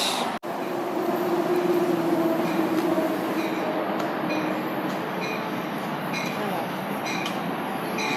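A passenger train runs steadily through the whole stretch, a loud close rumble with rail noise and faint squeals. Voices can be heard under the rolling sound.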